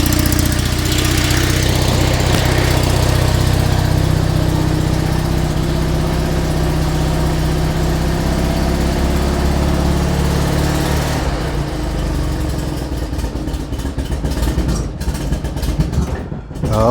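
A small single-cylinder Invacar invalid carriage engine runs loud and steady close by after the choke is used, then grows rougher and more uneven near the end.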